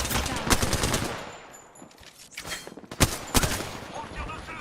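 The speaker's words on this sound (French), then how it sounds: "On me tire dessus." Bursts of automatic gunfire from the Apex Legends video game, sharp clustered shots in two volleys separated by a lull, with a player talking over them.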